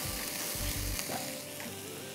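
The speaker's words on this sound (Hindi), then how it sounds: "मसाले को भूनिए अच्छी तरह।" Whole garam masala spices, including anise, shahi cumin and small green cardamom, frying in a pan with a soft steady sizzle and brief stirring scrapes, fairly quiet and close, with no voices.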